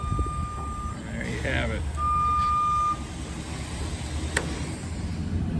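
A JLG lift gives two steady electronic warning beeps, each about a second long, over a low machinery rumble, as someone speaks briefly nearby.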